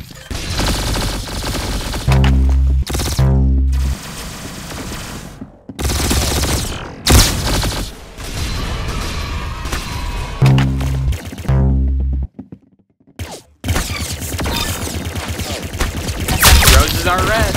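Rapid gunfire in the Roblox shooter Arsenal, loud bursts of automatic shots in quick stuttering volleys separated by short gaps, close and punchy, with a voice talking over parts of it.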